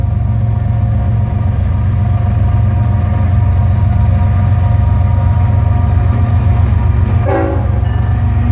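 A train rumbles past on tracks running close to a road along the Appalachian Trail, a loud, steady roar filling the whole stretch, with a brief horn-like tone near the end.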